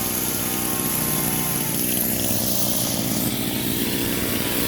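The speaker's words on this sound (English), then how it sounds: "He's mowing, he's trimming the bushes." Hedge trimmer cutting bushes during residential lawn mowing, a steady loud motorized buzz running continuously with a mower-like engine drone underneath and no pauses.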